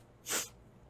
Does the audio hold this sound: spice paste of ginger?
no